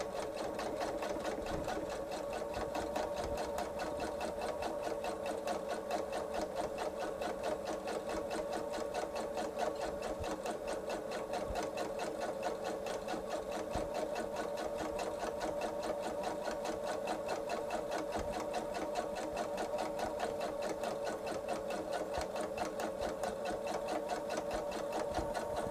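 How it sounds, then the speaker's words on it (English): A sewing machine runs top stitching along a folded edge of a quilted travel tote, a fast, even mechanical whir with a steady rhythmic hum that continues nonstop up close. "I'm going to have the fold follow the foot. And do my top stitch."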